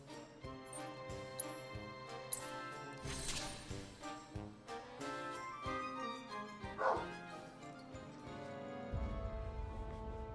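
A dog barking next door, several separate barks and yips at a moderate distance, spread across the stretch against background game music.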